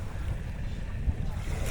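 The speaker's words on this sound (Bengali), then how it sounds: "হালকা হালকা হাওয়া দিচ্ছে" Light wind gusting across a sunny riverbank, heard as a brief, steady low rumble buffeting the microphone.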